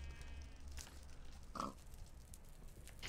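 A pig in a video game, a double pig in a portal room, gives a short grunting oink midway through, faint against quiet ambient game sound.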